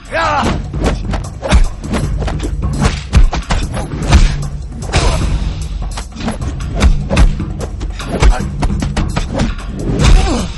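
Punches and blows from a film fight scene land as a run of sharp thumps and whacks, closely spaced and loud, with grunts and voices mixed between the hits.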